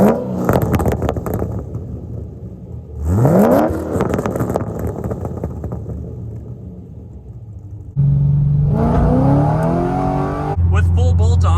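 A modified C6 Corvette with a 6.2 liter LS3 V8, full bolt-ons and an aftermarket cam, revving loud and close with rising pitch sweeps and a deep rumbling idle between pulls.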